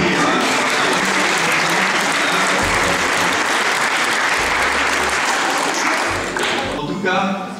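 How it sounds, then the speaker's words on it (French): A crowd applauds students receiving diplomas at a school ceremony, loud sustained clapping from a large audience with low rumbling handling noise underneath, thinning slightly toward the end. "Vous pouvez tous les applaudir."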